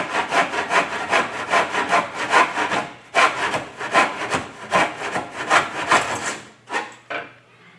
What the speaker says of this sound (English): As long as I can push forward and back, and then I'm creating sawdust, I'm cutting the material.